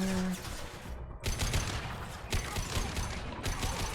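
Covering gunfire in Mass Effect 2, sustained rapid automatic shots with several sharp bursts separated by brief gaps, close and loud.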